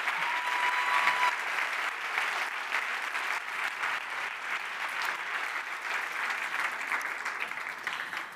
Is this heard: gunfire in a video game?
no